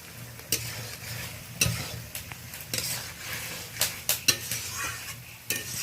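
Fried pointed gourd and potato being stirred with spices in a pan, a steady close sizzle with repeated scraping and clinks of a spoon against the metal.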